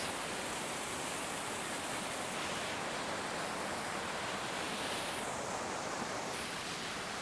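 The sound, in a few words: waterfall in Wales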